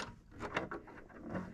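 A sewing machine presser foot drops onto basted quilt layers with a few short mechanical clicks and clunks, quiet and close, during quilting work.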